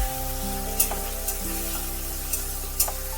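Chopped tomatoes going into hot oil with whole cumin and bay leaves, a dense continuous sizzle close up with a low steady hum beneath and a few light stirring clicks of the pan.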